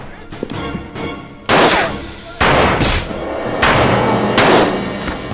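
Loud, close gunshots from a movie gunfight crack out in repeated heavy blasts, several shots spaced about a second apart over a rumbling, echoing background.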